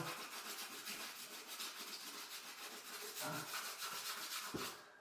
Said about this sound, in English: 80 grade sandpaper and we're just cleaning it up